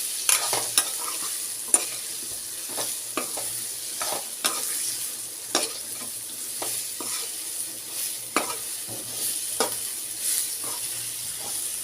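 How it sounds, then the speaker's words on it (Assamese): Papaya and soybean curry being stirred in a pan: soft, irregular scrapes and taps of a spoon over a low, steady sizzle, close and without talk. "আৰু খুব ভালদৰে এইদৰে মই মিলাই লওঁ।"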